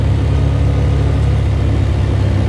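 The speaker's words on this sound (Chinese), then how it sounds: "它是略带一点引擎刹车的效果" A Nichino IE 250 farm carrier's engine drones steadily in low gear while descending a hill under engine braking, a loud, even, low hum at close range with no voices.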